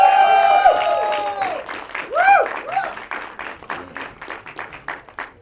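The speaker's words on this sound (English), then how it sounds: "There's already a lot of applause for you." An audience at the Laila Majnu trailer launch event claps and cheers, with a swell of applause that tapers into scattered claps, while a voice speaks and a whistle-like tone sweeps over the noise.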